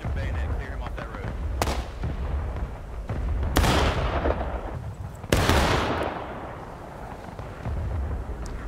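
Musket volleys crash out in the Civil War video game War of Rights, three loud ragged blasts with rumbling tails a couple of seconds apart, distant crackling shots and talking in between.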